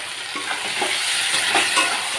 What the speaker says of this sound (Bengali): এবারে আমরা কেটে রাখা লোটে মাছটা এর মধ্যে দিয়ে দিচ্ছি